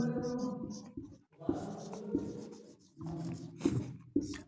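Chalk or marker writing on a board during an English grammar lesson on direct and indirect speech, heard as scratchy strokes in short bursts with pauses, close and moderately loud.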